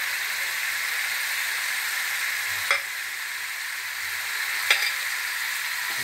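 Spices cooked with tomato juices fry in oil in a pan, a steady loud sizzle and hiss running throughout, with two brief sharp clicks of a spoon partway through and no talking.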